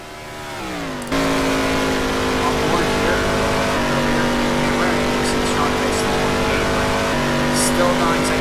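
Chevrolet stock car engines roar continuously in a NASCAR racing game, a loud sustained drone with slight pitch shifts as cars run down toward the line, with a commentator talking over it.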